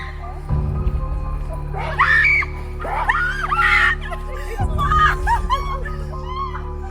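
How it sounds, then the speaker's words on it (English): A person screams and shrieks at someone dressed in a sheet during a spooky Halloween night walk through woods, with several loud vocal outbursts over a low steady rumble. "And yes, here it is again, me screaming at someone in a sheet."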